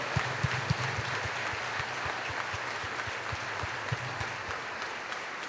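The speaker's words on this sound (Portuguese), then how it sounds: "Vamos dar uma forte salva de palmas àquele que venceu" A church congregation gives a strong round of applause, steady dense clapping with sharp individual claps standing out, sustained evenly throughout at a moderate distance.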